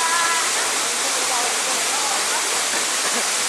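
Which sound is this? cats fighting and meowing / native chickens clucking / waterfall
waterfall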